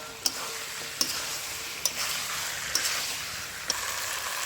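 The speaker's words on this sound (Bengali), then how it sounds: "এই ভেজে রাখা পটল আর ডিম আমি দিয়ে দেবো। মিনিট 5 মতো কষিয়ে নেব।" Potatoes, fried pointed gourd and egg sautéing in spiced oil in a pan, a steady close sizzle with five sharp evenly spaced knocks of a spatula against the pan.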